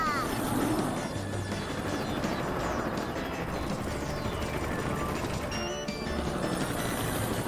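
A helicopter's rotor drones continuously at moderate volume, with mechanical whirring and faint clanks layered over the steady hum.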